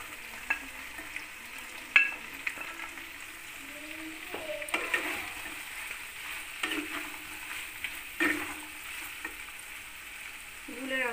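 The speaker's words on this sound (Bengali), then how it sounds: "এবার দিয়ে দেবো টমেটো সস, এবার চিকেনটা দিয়ে দিলাম।" Chicken pieces sizzle and fry in a pan with soy and tomato sauce for chilli chicken, stirred in scraping bursts that come every couple of seconds over a steady low crackle, close and moderately quiet with no talking.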